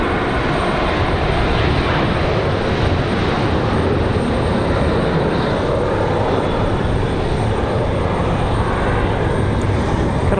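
Engines of a fully loaded Boeing 737-9 jet airliner at Raleigh-Durham International Airport on a windy day, a loud, steady, broadband roar held for about ten seconds without a break.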